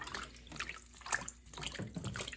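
Mullein leaves are swished around in water in a kitchen sink, giving soft irregular sloshing and splashing sounds close by at moderate level.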